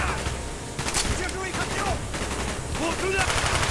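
Machine gun fire crackles in the Call of Duty Black Ops video game, rapid bursts of shots repeating close and loud, with a voice speaking briefly between bursts.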